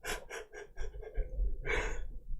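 A person yawns and then pants like a dog, with a series of quick, breathy rhythmic gasps followed by a longer exhaled breath, close to the microphone.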